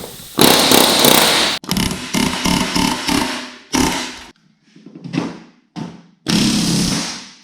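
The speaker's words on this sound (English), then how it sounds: "And finally riveting." Loud bursts from a pneumatic riveting tool on a Land Rover Series 3 aluminum seat box, harsh rattling blasts of varying length separated by brief pauses, close up.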